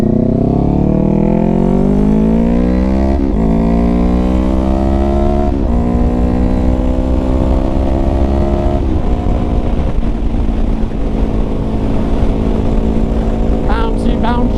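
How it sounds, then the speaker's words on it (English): A Kawasaki Ninja 400 fitted with an upgraded GSXR 600 rear shock accelerates on the road. Its engine note climbs repeatedly and drops at each gear shift over steady wind rush, close and loud throughout. "this bike just sounds so nice"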